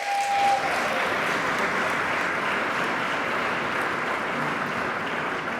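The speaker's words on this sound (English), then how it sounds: "Let's give a round of applause to Labor." Loud, continuous applause from a big audience, a thick even roar of many hands clapping that carries on without a break, for labor at the New York State of the State address.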